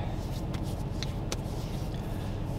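A 2012 Ram 1500 pickup with a Diablo Sport 93 performance tune, heard from inside the cab while driving: a steady low engine and road rumble with a broad hiss, continuous and fairly loud, with no voices.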